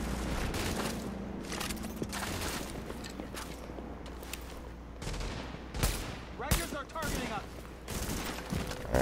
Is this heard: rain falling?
no